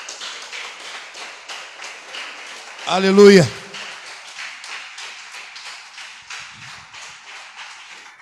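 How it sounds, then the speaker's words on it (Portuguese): Church congregation clapping in a fast, steady rhythm, with a loud sung or shouted voice breaking in briefly partway through and clapping continuing afterward. "Pode aplaudir o Senhor Jesus."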